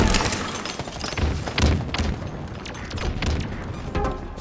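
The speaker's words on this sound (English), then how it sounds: "Tossing a nade." In a Halo multiplayer match, a thrown grenade goes off amid continuous gunfire, with heavy booming thuds and crackling bursts in a dense, loud battle mix.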